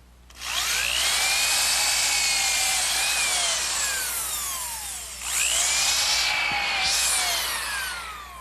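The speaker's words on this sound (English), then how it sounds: "pre-drill a hole using this bit, which gives me a countersink for the screw heads" A power drill with a countersink bit whines loudly into wood for an Adirondack chair in two long runs, its pitch sagging and rising as the bit cuts.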